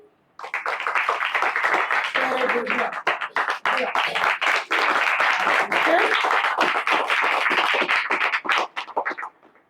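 A large audience at a Children's Day celebration claps in sustained applause to welcome guests, steady and dense for most of the stretch before it tapers off at the end.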